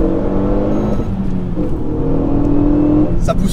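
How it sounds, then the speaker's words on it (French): Renault Megane RS 275 Trophy with a 2-litre turbo engine pulling hard at full throttle in second gear from 4500 rpm, a loud rising engine drone heard from inside the car, with a brief sharp noise near the end. "je mets pied au plancher."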